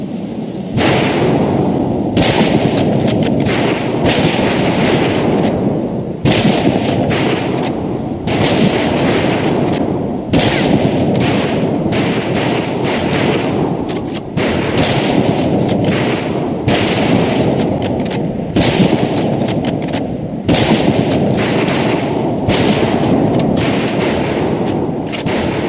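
Rifle gunfire cracks out repeatedly on a WWII boot camp target range in Medal of Honor Pacific Assault, loud sharp shots in irregular volleys over about twenty-five seconds with some echo.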